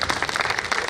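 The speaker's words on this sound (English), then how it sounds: "We can keep clapping and encourage the recipients." Audience clapping for an award recipient at a university celebration ceremony, a steady, dense wash of many hands close by, continuous through the second with no voices over it.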